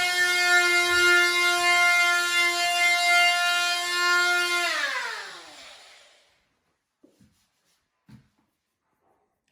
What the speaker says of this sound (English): Using an oscillating tool with a sanding disc on it.